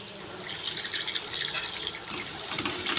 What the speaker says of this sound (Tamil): நமக்கு தேவையான அளவு பால் ஊற்றிக்கோங்க.